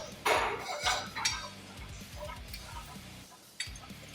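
Metal gym weight plates clank and clink as they are loaded onto a bar, several sharp knocks spread through a few seconds under faint background voices.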